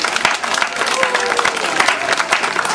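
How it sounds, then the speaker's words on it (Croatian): Audience applause at an outdoor fashion show during a 2016 summer cultural festival in Aleksinac, a steady crowd clapping that stays loud and even for the full few seconds. "Ajmo da ih pozdravimo jednim aplauzom."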